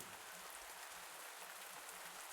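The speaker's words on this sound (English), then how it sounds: "It's a rainy day." Rain in a farming video game on a rainy day, a steady soft hiss of falling drops with no voices.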